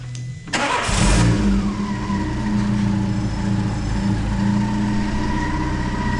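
A Peugeot 307 with a TU5 engine cranks, catches and revs up hard in a loud burst, then settles into a steady, close idle for several seconds with no talking.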